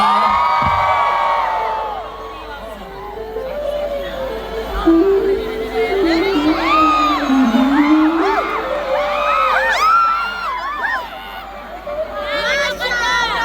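A large concert crowd at a show in Makassar shouts, whoops and cheers in loud, swelling waves, with excited voices rising and falling close by.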